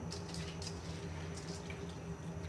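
Water heating toward a boil in a pot on the stove for biryani pulao, giving a steady low bubbling hiss with small watery pops and drips, fairly faint and constant throughout with no talking.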